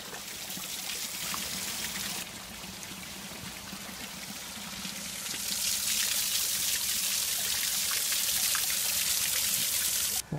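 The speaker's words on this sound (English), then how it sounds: "Nice waterfall here, look." A waterfall in Scotland pours and splashes in a constant rushing roar that swells louder midway, close by with no voices.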